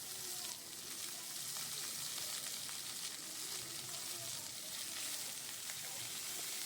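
Chopped medium onion frying in a pan for a fish roe and taro curry: a loud, dense, continuous crackling sizzle with faint stirring underneath, no voices.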